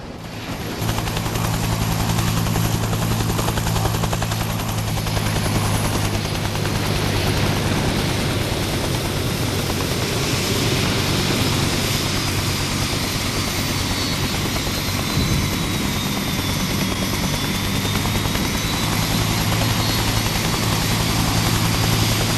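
A video-game helicopter engine drones steadily in flight, with a loud, continuous rotor and turbine roar and a constant low hum, unbroken for the whole stretch with no talk.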